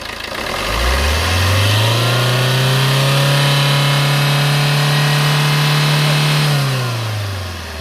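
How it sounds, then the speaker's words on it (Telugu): Maruti Suzuki Ertiga diesel engine revved hard from idle, climbing to a steady high drone held for several seconds before dropping back, loud and close with no talk. "అన్న యాక్సిలేటర్ ఇవ్వనా"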